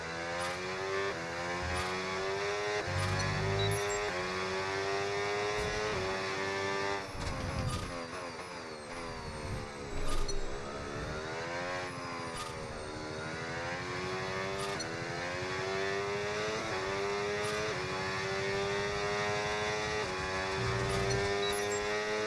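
F1 26 game Formula 1 car lapping through corners, a continuous high-pitched engine whine rising and falling with gear changes and throttle lifts, loud and close throughout with no talk.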